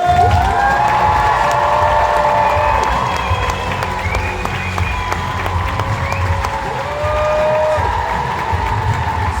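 A comedy club audience in Manchester greets comedian Carl Hutchinson's entrance with loud, sustained applause and cheering. Shouts and whoops rise above the steady clapping throughout.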